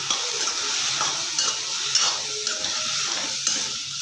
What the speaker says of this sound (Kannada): ಇವಾಗ ಎಣ್ಣೆ ಹಾಕ್ಕೊಳ್ಳೋಣ. ಚೆನ್ನಾಗಿ ಹುರ್ಕೊಳ್ಳೋಣ.